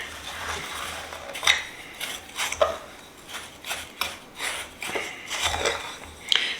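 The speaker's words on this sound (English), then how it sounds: "I'm just going to grab a fork, which I did not have prepared, and just mix it together." A fork stirring Cajun seasoning in a dish, soft irregular clinks and scrapes of metal against the container, close and fairly quiet, with no talking.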